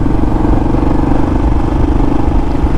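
Royal Enfield Classic 350 motorcycle with a five-speed gearbox, its engine running steadily and close by throughout the ride, a continuous low thumping drone with no talk over it.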